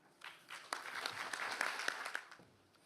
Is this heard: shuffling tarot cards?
no